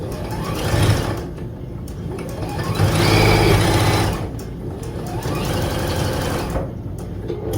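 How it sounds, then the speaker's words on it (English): Domestic sewing machine stitching rick rack trim onto the binding along a quilt's edge, running in a steady whir with a few louder bursts and short pauses. "Do a little back stitch to get started, and then start working my way down the edge of the quilt."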